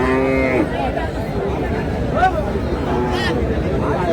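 Cattle low at a busy livestock market, several drawn-out moos rising over a constant crowd babble, with people talking and haggling close by throughout.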